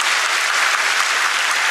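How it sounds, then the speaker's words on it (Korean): A church congregation breaks into steady, dense applause for new members at a Sunday baptism and confirmation service, the clapping loud, even and continuous throughout with no voices over it. "박수로 뜨겁게 한번 축하해 주시기 바랍니다."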